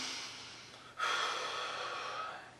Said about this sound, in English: I'm going to breathe